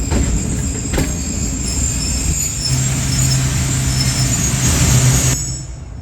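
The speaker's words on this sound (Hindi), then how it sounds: "2 अदद लोकोमोटिव मुझे यहाँ पे खड़े हुए दिखाई दे रहे हैं।" Pakistan Railways diesel locomotives, a GU40 and an AGV30, idle at a station with a loud, steady low rumble and a constant engine hum. A faint tonal whine rises near the end before the sound eases off.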